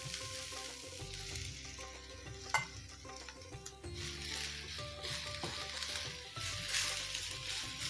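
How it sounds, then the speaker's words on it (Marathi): Fresh grated coconut filling for mango modak sautéed in a pan, a soft steady sizzle with scraping stirs and a sharp clink of the spoon partway through, close and without speech. "एखादा मिनिट छान परतून घ्यायचा तो कारण खूप भाजलं तर ते ड्राय होतं"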